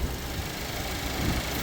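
A Volkswagen Passat with a TSI petrol engine and 510,000 miles sits idling, giving a steady low engine hum with light mechanical rattle, close and constant with no talking.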